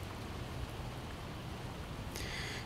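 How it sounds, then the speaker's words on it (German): Rain falling in the Project Zomboid survival game, a steady hiss of broadband rain noise at moderate level with no speech, plus a brief brighter rustle near the end. "Und es regnet und ich denke, im Regen sollten wir uns nicht draußen aufhalten."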